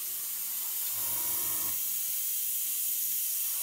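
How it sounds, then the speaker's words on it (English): Light spray of paint or thinners misted over the middle of a model jet for a weathered finish, a brief soft hiss of under a second amid steady background noise. "As you can see, I'm spraying very lightly"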